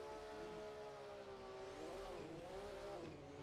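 A drift car screams at full throttle around Mondello Park, its engine note loud and sustained for the whole stretch, rising and bending in pitch with a hint of tire squeal.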